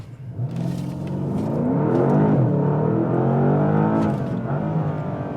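A 2021 Porsche Panamera GTS pulls away under full throttle, its engine note climbing in a smooth rising roar that swells loud mid-pull, then eases briefly as the pitch resets before climbing again, heard from inside with no talking.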